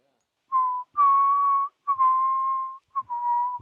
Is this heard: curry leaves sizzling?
no